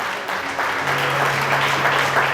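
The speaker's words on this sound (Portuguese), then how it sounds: "Pode aplaudir a Jesus." Church congregation applauding, a dense steady patter of many hands clapping together, fairly loud and continuous, with a faint sustained tone from music or a held voice underneath.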